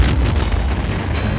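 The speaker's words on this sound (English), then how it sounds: "we have a lot of explosions" A stunt explosion on the 1988 Rambo III film set gives a loud, deep, rumbling boom that fills the whole short moment, with no voices.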